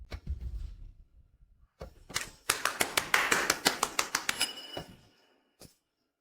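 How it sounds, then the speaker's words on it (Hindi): A class crowds into applause for the class topper, a rhythmic run of about a dozen sharp, fairly loud claps that builds quickly and then fades, after a few scattered taps. "सभी इनके लिए तालियां बजाएं।"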